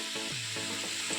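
Chopped carrots fry in a pan for a vegetable fried rice, making a faint, steady sizzle with a couple of soft scraping stirs, close by and without voices.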